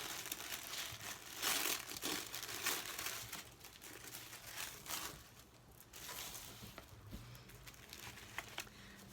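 Purple paper crinkles and crumples as it is handled and unwrapped, a steady close rustling with louder bursts of crackling throughout and no talking.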